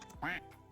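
A single short, nasal quack voiced by a person imitating a duck, close and fairly loud.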